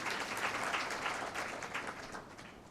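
An audience claps together to welcome an honoured guest at a temple gathering, a dense, fairly quiet burst of clapping that fades slightly toward the end.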